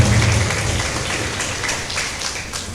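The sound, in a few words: audience applause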